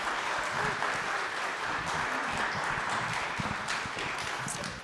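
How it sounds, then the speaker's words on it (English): An audience gives a round of applause for a guest, warm close clapping with a few louder individual claps, holding steady for several seconds. "Can you please give Lex a round of applause?"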